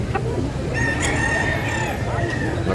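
A rooster crows in a busy public market selling big chickens in Carbon, its call rising clearly above a steady crowd murmur and background chatter, with a few other clucks nearby.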